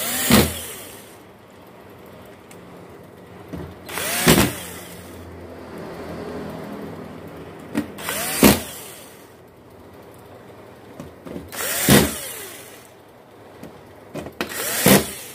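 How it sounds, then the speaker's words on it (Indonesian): A Samsung UA40J5000AK LED TV being screwed back together, with several loud whirring bursts of a power screwdriver driving in screws at intervals, close by, separated by quiet stretches and with no talk. "Oke, saya baut dulu ya."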